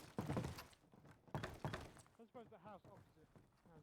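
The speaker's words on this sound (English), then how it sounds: "those are mortars" Mortar shells strike in a tactical shooter game, a few heavy booming thuds with a crackling, shattering tail, while a player talks over and between the blasts.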